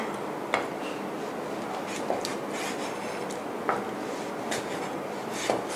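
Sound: knife slicing pork skin

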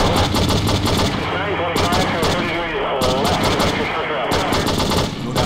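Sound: machine gun fire in True Crime video game

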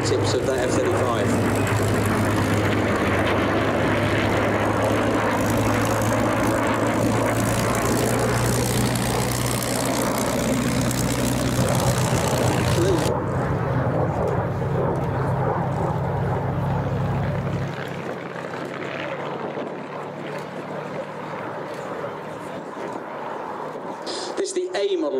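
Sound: P-47 propeller aircraft formation flying past at airshow

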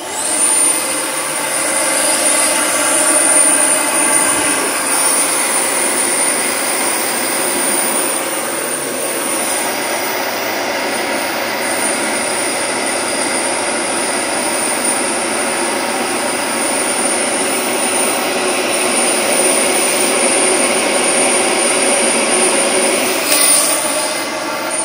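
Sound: bagless vacuum cleaner motor running

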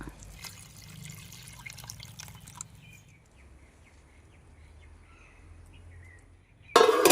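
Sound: pouring water into tamarind fish curry

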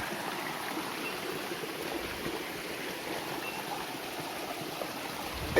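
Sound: waterfall stream flowing

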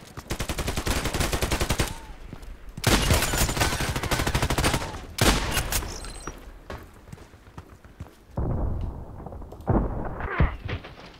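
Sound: gunshots in the video game Contract Wars

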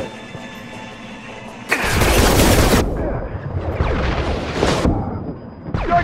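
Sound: shotgun fire in Mass Effect 2 video game

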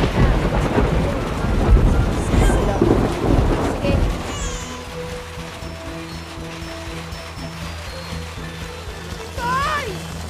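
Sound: heavy rain with thunder

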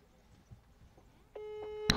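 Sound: WhatsApp call ringing tone

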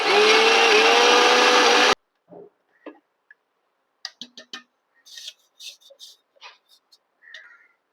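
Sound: sugar being ground to powder in a mixer

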